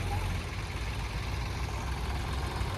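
A steady low engine rumble drones without a break, an idling tractor close by with a constant mechanical hum.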